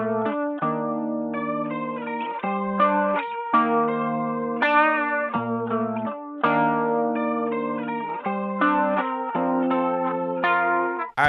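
Three layered electric guitar parts play together in a nostalgic beat, a steady main line under two parts trading call-and-response phrases, all washed in chorus, distortion and echo, clear and upfront.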